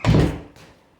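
A door swings shut without latching, giving one soft, fairly close thud followed by a brief fainter knock as it settles, with no click of a catch.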